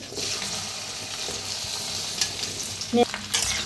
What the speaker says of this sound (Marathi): आता फर्स्ट याला भाजून घेऊया। तर कढाईत थोडंसं तेल वतलेलं आहे।